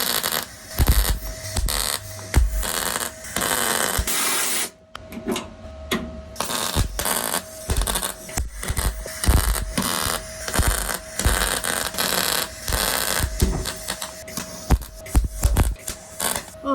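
Tack welding on the rocker panel of a Jeep Cherokee, heard as sharp crackling bursts that start and stop in an irregular rhythm, with short pauses between tacks and no one talking.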